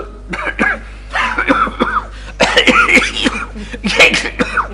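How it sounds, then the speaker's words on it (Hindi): A run of harsh, bursty coughs and throat sounds in several bunches, close and fairly loud, with a steady low hum underneath. "खांसी भी अजीब चीज है, यानी मुंह से अजीब और गरीब किस्म की आवाजें निकलती हैं"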